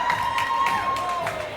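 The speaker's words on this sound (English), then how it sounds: "Cristopher Garcia getting cheers here from the crowd as his corner takes off his hand wraps." An arena crowd cheering for boxer Cristopher Garcia, a continuous roar of voices with whistles and shouts running throughout, moderately loud and somewhat distant.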